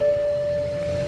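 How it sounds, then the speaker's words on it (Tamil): Steady electronic alarm tone at Jaffna International Airport, a single sustained pure beep held for about a second over low background hum. "அலாரம் அடிக்குது வந்தோடனே,"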